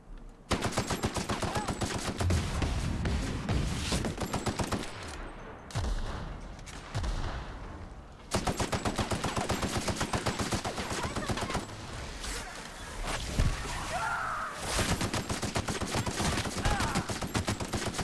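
Almost continuous rapid gunfire from The Outer Worlds as targets soak up bullets, loud and dense with only brief pauses between long bursts.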